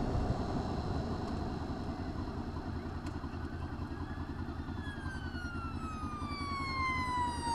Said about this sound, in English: Got an emergency vehicle, looks like they're trying to overtake there.